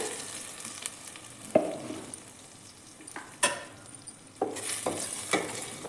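Ground paste being stirred into horse gram sambar frying in a pan, a continuous soft sizzle broken by a few sharp scraping and clinking stirs, close up with no talking.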